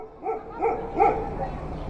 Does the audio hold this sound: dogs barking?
yes